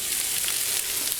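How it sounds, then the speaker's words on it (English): Chopped carrots and onion fry in a pan, a steady bright hiss of sizzling oil that holds even and close without any talking. "Oh, it's a nice sizzle too, I like that."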